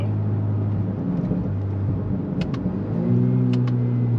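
A turbo Honda Accord with a 10-speed transmission accelerating uphill, heard from inside the cabin: a steady engine drone that rises in pitch near the end as it pulls harder, with a couple of faint clicks.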